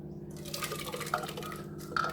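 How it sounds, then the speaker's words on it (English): Liquid is poured into a cooking pot in a home kitchen, a soft close trickle and splash running over a faint steady hum, with small drips near the end. "Bring it over here and pour it into this pot, which I got ready earlier."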